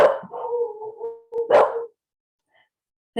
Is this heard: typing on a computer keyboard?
no